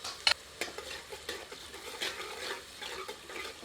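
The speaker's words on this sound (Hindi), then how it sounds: "मिलाकर 1 से 2 मिनट मध्यम आंच पर भूनते हैं।" Ginger-garlic paste and onions are stirred and fried over medium heat for Old Delhi-style keema, with soft sizzling under repeated scraping stirs that come in short, irregular bursts.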